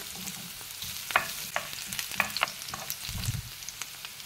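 Onion and ginger sizzle steadily in a pan, with crackling fry noise and occasional scrapes and stirs of a utensil, close and continuous with no talk.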